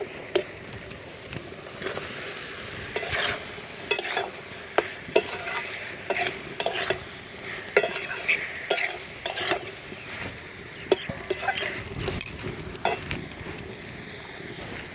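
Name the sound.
stir-frying pointed gourd, fried potato and prawns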